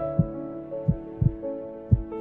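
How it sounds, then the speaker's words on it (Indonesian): A pounding heartbeat effect thumps four times at uneven intervals, loud and close over a steady low musical hum, with no voices. "Jantung aku berdebar."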